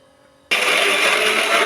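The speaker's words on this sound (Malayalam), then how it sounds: "മിക്സിയിലിട്ട് നമുക്കൊന്ന് അരച്ചെടുക്കാം." A mixer grinder switches on abruptly after a half-second of quiet and grinds soaked lentils with a loud, steady, high-pitched whirring roar that holds through to the end.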